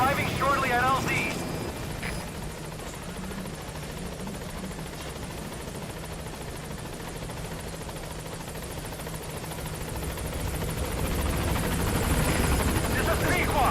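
Rotor and engine noise of the Pequod transport helicopter arriving at a landing zone in the video game Metal Gear Solid 5, a steady broad drone that swells louder toward the end, with a voice talking over it.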